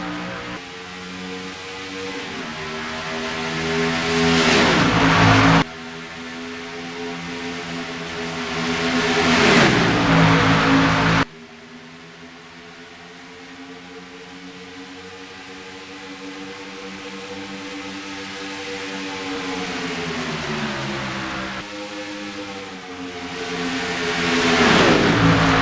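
Race cars roar off at the green flag of the Planet Hollywood 400 at Auto Club Speedway in the PSRLA Cup Series, loud engines surging and dropping in repeated waves through gear changes, continuous and close, with no talking.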